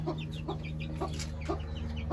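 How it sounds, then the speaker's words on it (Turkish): Chickens cluck in a steady series of short calls over a constant low electrical hum. "bizim bir grup tavuğumuz daha var"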